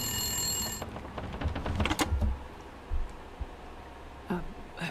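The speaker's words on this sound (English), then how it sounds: "Oh, phone." A telephone rings in The Long Dark video game, a steady electronic ring for nearly a second before it cuts off, followed by scattered clicks and thumps of game activity.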